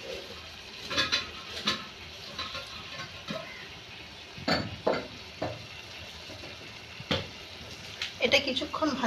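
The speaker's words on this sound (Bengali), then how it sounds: "এটা কিছুক্ষণ ভাজা ভাজা হবে।" Tomato with ginger paste, chili, cumin and coriander powder frying in a pan for mung dal with fish head, a soft sizzle under scattered spatula scrapes and clinks, with a voice speaking now and then.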